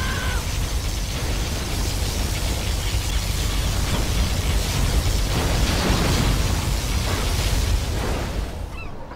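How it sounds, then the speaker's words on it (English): A sustained, loud roaring blast from the particle cannon in Command and Conquer: Generals - Zero Hour, a dense rumbling wash of noise that holds for several seconds before trailing off at the end. "We should use the particle cannon to blast through."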